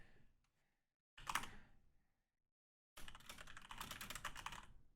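A computer keyboard is typed on in two close bursts of rapid clicking keystrokes, separated by silence, the second burst longer and steady.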